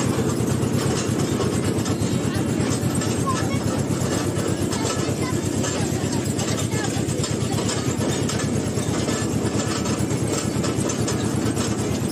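A toy train rumbles along a rough, uneven track at Dheusagar Park in Digha, its steady mechanical drone and faint rhythmic clatter continuous and close throughout.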